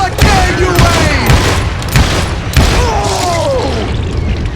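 Loud, close gunshots ring out in the Wild West shooter Call of Juarez: Gunslinger, several sharp booming shots spaced across a few seconds, each leaving an echoing ricochet-like tail.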